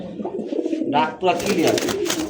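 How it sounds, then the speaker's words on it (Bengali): A brown-throated high-flyer pigeon coos softly close by, with someone talking over the bird's low calls. "একদম স্পষ্ট একটা ডাক দেখেন এটা হচ্ছে খয়েরি গলা বলা হয় অনেক সুন্দর একটা হাইফ্লার কবুতর"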